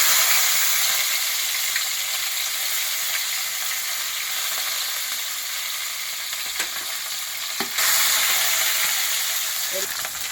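Curry leaves crackle and sizzle in hot oil with cumin, mustard seeds, urad dal and dried chilli seeds for a vegetable chutney tempering, a steady loud frying hiss with occasional stirring scrapes.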